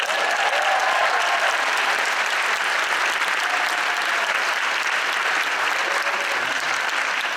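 Audience at a middle school Christmas band concert applauds steadily, a dense, even wash of clapping that stays loud and unbroken from start to finish, with no talk over it.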